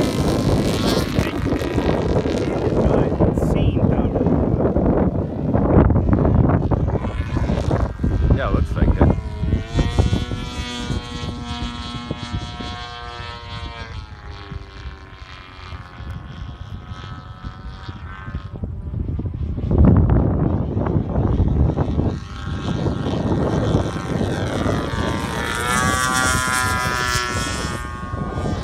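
A Subaru BRZ fitted with DA70 exhaust pipes drones and rises in pitch through repeated revs, loud and close, with people talking over it and wind buffeting the microphone.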